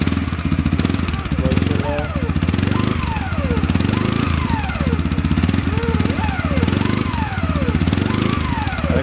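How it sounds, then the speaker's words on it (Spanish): A CFMOTO CForce 450L ATV engine idles steadily and close, with a loud, continuous mechanical chug that has slight rhythmic swells, while someone talks over it. "vamos a prender esta C-Force 450 CF de moto"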